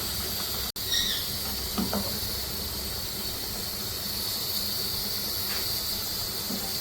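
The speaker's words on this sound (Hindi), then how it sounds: "अब हम इसमें फ्राई करना शुरू कर देंगे पूरियों को।" Rajasthani puris frying in hot oil over medium heat make a continuous close hiss and gentle sizzle, broken by a sharp click early on and a few faint bubbling pops.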